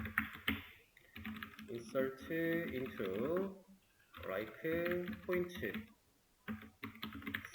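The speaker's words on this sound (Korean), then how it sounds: "그 다음에 인서트를 이거는 그냥 하나 타이핑을 하죠" Someone types on a computer keyboard during a web development lesson, entering a database insert query, with light key clicks running under steady nearby talk.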